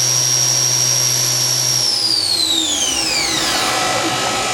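The spindle of a 2005 Fadal 2016L VMC CNC mill whines steadily at its 7,500 RPM maximum, then its pitch slides smoothly downward as it spins down, close and loud.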